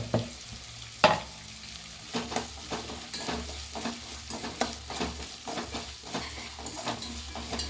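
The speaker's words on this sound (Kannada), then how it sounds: "ಇದನ್ನು ಸ್ವಲ್ಪ ಫ್ರೈ ಆಗಲಿ ಆಮೇಲೆ ಟೊಮೊಟೊ ಸೇರಿಸ್ಕೊತೀನಿ" Onions, green chillies and legumes frying in oil in a pan, a steady close sizzle punctuated by regular scraping stirs of a spoon against the pan, no talk.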